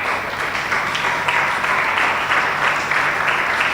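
A church congregation gives a strong round of applause during a service, a full and sustained burst of many hands clapping that swells slightly toward the end.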